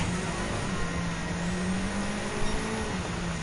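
A race car engine in Gran Turismo 7 drones steadily at high revs, a continuous loud hum with a faint rising and falling pitch line that holds through the whole stretch, with no talking.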